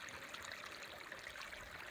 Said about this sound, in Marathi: पाणी एकदम बारीक धार चालू